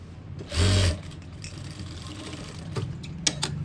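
A sewing machine stitches a simple suit, giving one brief close whirring burst of about half a second, followed by quieter handling clicks and rustles.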